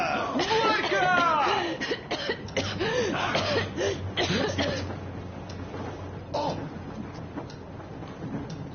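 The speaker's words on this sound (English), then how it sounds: "What's that cough?" Coughing in the game Metro Exodus, a few harsh coughs and throat clears mixed with talking voices and a low background hum.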